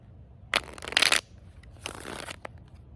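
Two bursts of tarot cards being riffled and shuffled, a loud one early and a softer, longer one later, close by with faint outdoor background noise.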